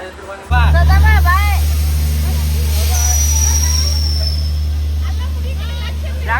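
A departing train rumbles steadily with a low engine drone and a high metallic squeal, while several people chatter nearby.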